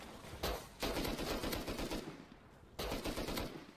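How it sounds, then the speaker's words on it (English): Automatic gunfire in the survival game Rust, sustained bursts of rapid shots separated by a short pause, fairly loud with no talk. "this guy ended up just trying to shoot me from the top of his tower"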